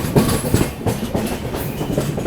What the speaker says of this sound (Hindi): देखो माल गाड़ी से पैरेलल आगे हम लोग जीत रहे हैं रेस को।